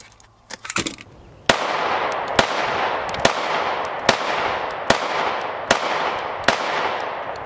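Gunshots from an FNS 9C compact pistol at a shooting range, a string of about eight loud sharp reports at a steady pace, each followed by a long echoing tail, after some preliminary handling clicks.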